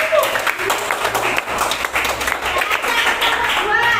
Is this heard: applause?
yes